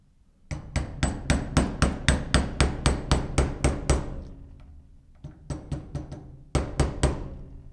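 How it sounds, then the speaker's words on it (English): Hammer blows drive a Glock night sight into its dovetail on a pistol slide held in a vise, a loud steady run of sharp metallic strikes, a short pause, then two more quick bursts of taps. "It should be pretty easy to hammer the rest in."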